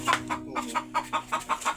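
A hen clucks in quick, rhythmic repeated bursts, about eight sharp clucks close by, with a squawk near the start and no talking.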